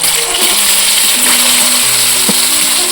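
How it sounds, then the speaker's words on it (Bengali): Paneer frying in hot white oil sprinkled with salt for palak paneer, a loud, constant hiss and sizzle close up, with a few faint clinks and tones underneath. "গরম হয়ে গেছে, সামান্য একটু নুন ছিটিয়ে আমি পনিরগুলো ভেজে নেব"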